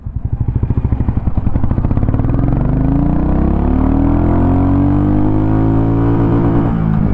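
Royal Enfield Goan Classic 350 single-cylinder motorcycle pulling away in first gear, starting with a rapid thumping idle pulse and rising into a loud, climbing engine drone close by.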